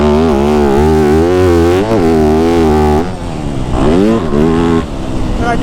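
Yamaha YZ250F four-stroke dirt bike rides a motocross track, its engine loud and close with rising and falling revs through shifts, dipping briefly before climbing again.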